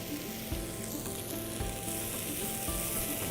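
Chicken frying in a pan with a spoonful of tomato puree and garlic puree for a Mediterranean chicken dish cooked outdoors by the water: a loud, steady sizzle throughout, with occasional soft thumps of stirring and no voices.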